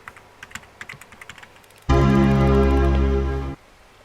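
Quick, light keyboard clicks tap away faintly while typing in a Roblox horror game, then a loud, buzzing electronic tone blares for about two seconds and cuts off.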